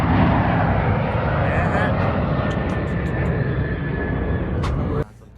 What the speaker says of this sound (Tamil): போயிங் இப்போ தான் டேக் ஆஃப் ஆச்சு.